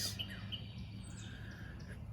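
Birds chirp outdoors near someone working on a Fox Body Mustang's rear bumper cover, with faint high tweets scattered over a steady low hum of background noise.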